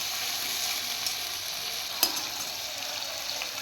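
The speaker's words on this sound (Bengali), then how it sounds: "এটা একটু 1-2 মিনিটের মতন ভাজা ভাজা করে নেবো চিংড়ি মাছটা" Shrimp fry in a pan with a steady, dense sizzle that holds even throughout, broken only by a single faint clink, and nobody speaks.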